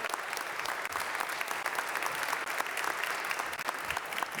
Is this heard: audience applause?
yes